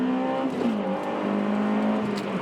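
An Acura RSX Type S engine revs hard into VTEC, its steady droning note climbing in pitch with a brief dip midway, loud and close from inside the car.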